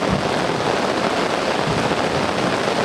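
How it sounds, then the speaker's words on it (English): Heavy rain drums steadily on a fishing bivvy during a thunderstorm at a carp lake, a dense, close, unbroken hiss with no distinct thunder clap standing out. "Absolutely incredible thunderstorm."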